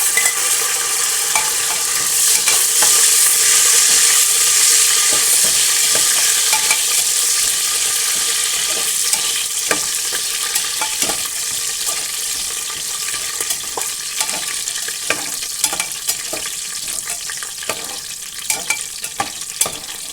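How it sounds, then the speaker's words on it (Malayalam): Cashews and raisins sizzle steadily in hot ghee while a spoon stirs and scrapes the pan, a close, continuous frying crackle with light clinks and no talking, as nuts fry for ghee rice. "ഇതിലേക്ക് ഞാൻ ഈ അണ്ടിപ്പരിപ്പ് ഇട്ട് കൊടുക്കുന്നുണ്ട്. നമ്മളെ മുന്തിരി ഇട്ട് കൊടുക്കുന്നുണ്ട്."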